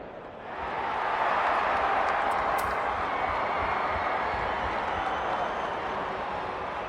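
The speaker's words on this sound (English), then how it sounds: "The crowd already making plenty of noise as the captains come together." A stadium crowd before an AFL match between East Fremantle and East Perth, a broad, steady roar of cheering and chatter that swells in over the first second and then holds at a distant, even level.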